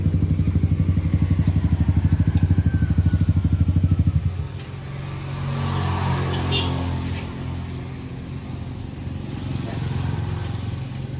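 A tricycle's motorcycle engine with a newly replaced bearing runs with a loud, steady rapid chug for about four seconds, then drops to a softer, rougher idle with some clatter.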